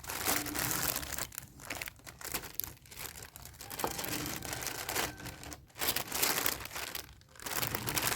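Continuous crinkling and rustling of a plastic package being handled and opened, close up, with crackly bursts and brief pauses.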